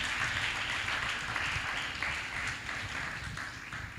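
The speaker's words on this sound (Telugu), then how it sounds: "చప్పట్లు కొట్టి ప్రభు నామాన్ని మహింపడు." A church congregation claps together in a dense, continuous wash of applause that holds steady throughout, with no talk over it.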